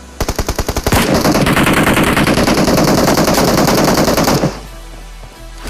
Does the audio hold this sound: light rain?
no